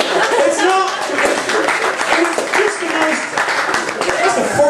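Live stand-up comedy audience breaks into loud, sustained applause mixed with chuckles and cheers, filling the room steadily for several seconds.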